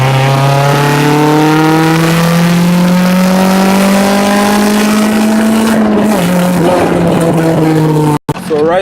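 Engine of a Honda Civic on 14-inch tires pulling hard in third gear, a loud steady drone rising smoothly in pitch for several seconds, then a brief dip near the end as revs change.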